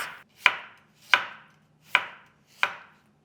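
A knife chops radish on a cutting board in four loud, evenly spaced thunks, each with a short crisp tail, close up and with no one speaking.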